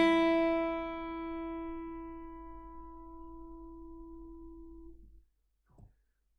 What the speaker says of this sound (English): So here I would just pluck the thinnest string